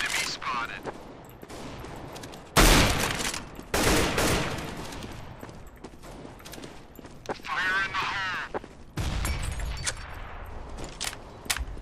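A decoy grenade in a tactical shooter game spitting out fake gunfire close by, loud bursts of rapid shots in irregular clusters, with a voice talking between the bursts.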